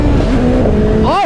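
A 2023 BMW S1000XR motorcycle engine held in a wheelie, its steady tone rising into a quick, loud rev burst at the end, heard up close beneath a rider's talk.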